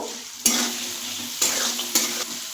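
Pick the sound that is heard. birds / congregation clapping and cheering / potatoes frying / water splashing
potatoes frying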